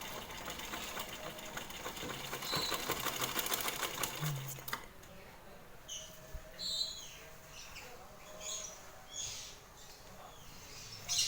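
A sewing machine stitches elastic into fabric, running in a dense, steady whir for about five seconds before stopping, leaving a quieter room with faint chirps and scattered light sounds.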